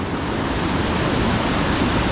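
Fast-flowing Vltava River in Prague, a steady, loud broadband rush of water heard up close, continuous and even throughout with no voices.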